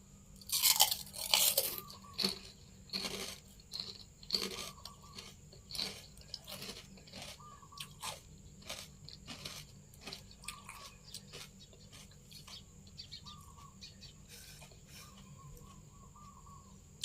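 Close, crisp crunching of crispy pork rinds (khaep mu), eaten with chili dip, with many irregular bites and chews that fade into softer moist chewing.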